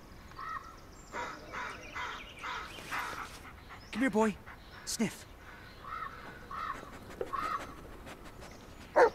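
Crows cawing in the woods in the video game Blair Witch, a few harsh caws at moderate distance mixed with a dog's whimpers and sniffing while someone talks quietly to the dog.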